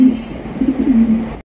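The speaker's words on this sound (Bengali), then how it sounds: "এটা হচ্ছে আপনার আফসানবাগের গ্রিজেল রেসার কবুতর" Grizzle racer pigeons coo close by in soft, low, rolling bursts, two or three throaty phrases over a quiet background.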